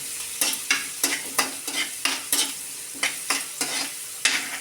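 Chopped onion is sautéed in a pan for a radish vegetable dish, with close, sharp scraping stirs repeating every half second or so over a soft underlying sizzle.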